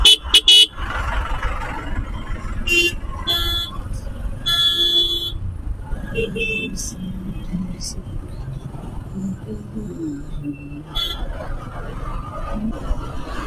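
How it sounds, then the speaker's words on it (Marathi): Busy road traffic around Malad in Mumbai heard from a motorcycle, with a steady engine and traffic rumble, repeated short car horn toots near and far, and people talking over it. "ट्रॅफिक आहे इकडे, ट्रॅफिक."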